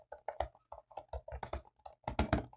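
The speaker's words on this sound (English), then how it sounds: "I'm going to go ahead and do some typing here." Quick, steady keystrokes clatter on a Microsoft Surface Pro 9 keyboard close by, a run of light clicks with no voices.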